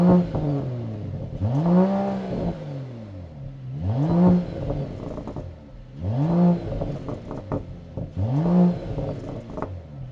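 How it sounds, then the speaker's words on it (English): A Mercedes-AMG CLS 53 exhaust barks through four separate revs, each a quick rising and falling blip of engine note, loud and close with no talk between them. "let's go ahead and listen to the exhaust note"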